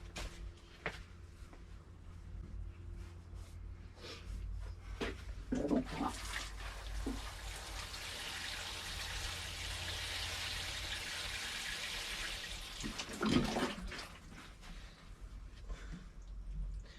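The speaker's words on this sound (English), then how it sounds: "So I'm just going to water it" Water pours into dried-out garden plant pots in summer heat, a soft continuous splashing and trickling that swells in the middle, with a few brief knocks and handling sounds nearby.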